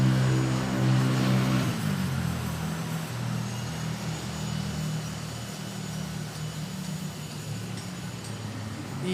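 A KLM Asia Boeing 777 at Manila Airport produces a loud, steady engine roar with a deep tonal hum that eases slightly after the first couple of seconds and then holds.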